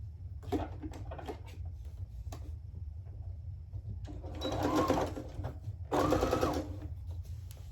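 A sewing machine stitches plaid fabric for men's pants in two short, close whirring runs, each about a second long, between quieter handling clicks and taps over a low steady hum.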